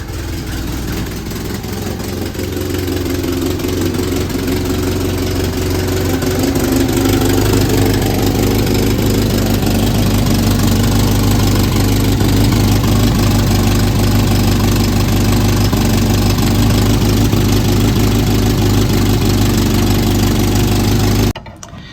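A carbureted engine on an abandoned Amazon machine runs steadily after restarting without a choke, a loud continuous idle with a low knocking rumble that holds for about twenty seconds before cutting off abruptly at the end.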